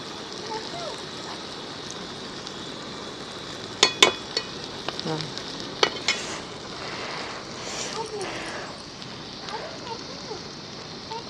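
Goat tripe (boti) frying in a pan, a steady soft sizzle with a few sharp stirring clinks and scrapes near the middle, heard close up.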